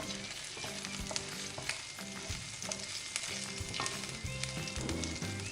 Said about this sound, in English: Next I am going to add the crushed ginger garlic. Keep the flame low. Just saute for some time.